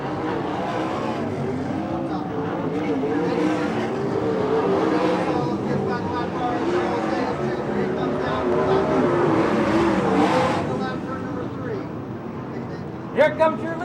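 USAC/CRA sprint cars race at Hanford, California, their engines a continuous loud, rasping roar that swells and fades as cars pass, heard under a race announcer's steady commentary.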